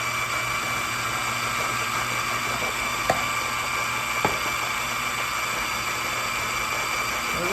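A food processor runs on high, pureeing chicken pot pie into a no-chew meal: a steady, loud whirring motor with a dense, even roar that holds for the whole stretch, broken by a couple of brief clicks.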